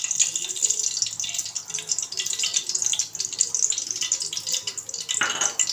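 Cooking oil poured into a hot pressure cooker for mutton biryani, a continuous soft trickling and sizzling pour that stays steady, ending with a brief clatter.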